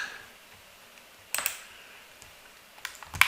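Keyboard shortcuts typed on a computer keyboard while working in Blender, heard as a few scattered key clicks with quiet gaps between them.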